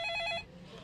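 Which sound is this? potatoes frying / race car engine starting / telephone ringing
telephone ringing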